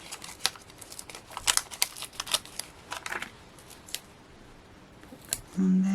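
Scissors snip through craft card while making a Christmas card, a series of sharp, close cuts in uneven bursts, ending with a brief low rustle of handling.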